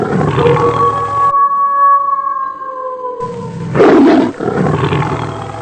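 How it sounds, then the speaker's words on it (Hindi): Tigers roar in a cartoon scene, two long, loud roars a few seconds apart with a quiet gap between them and a deep rumbling growl in the middle, with no talking. "बाघों की आवाज़।"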